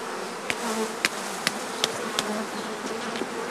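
Honeybees buzz around hive frames in an apiary, a close, steady droning hum with a few sharp clicks or knocks of the frames punctuating it.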